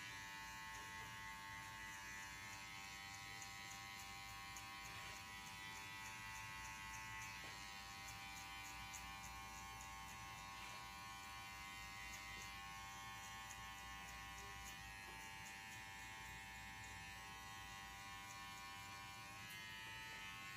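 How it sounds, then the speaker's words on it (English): Electric hair clippers fitted with a number 1 guard buzz continuously and faintly during a men's fade haircut, a steady tonal hum with small shifts as they move through the hair, with no voices. "now I'm gonna go with the clipper number 1"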